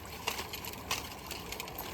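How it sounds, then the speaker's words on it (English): Water splashes and drips as a skunk hide is wrung out, with irregular sharp spattering bursts over a low continuous trickling background, close and moderately loud. "I'll wring this out, and I'll hang this up here, go under the water"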